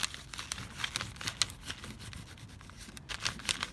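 Purple crayon scrapes back and forth on paper laid over a fern to make a rubbing, close, dry strokes in uneven rhythmic bursts with no talking.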